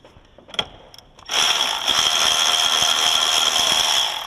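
A 10mm socket ratchet works a bolt loose on a 2011 Ram 2500: a few sharp clicks, then a steady, rapid ratcheting rattle that runs close and loud for about three seconds.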